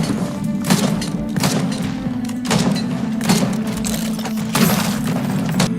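The Bandit's shotgun in Risk of Rain 2 fires a steady run of heavy, booming blasts over a constant low game drone, each shot a broad burst spaced roughly a second apart.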